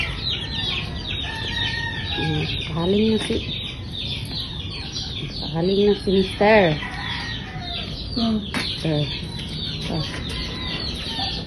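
Chickens cluck in short bursts close by, with a rooster-like call among them, while a person talks quietly in the background.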